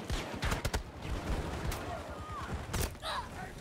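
Rapid bursts of automated gunfire from a sentry gun in Battlefield 2042 rattle out in short volleys amid a dense, noisy battle mix, with distant shots and effects layered over a steady background roar.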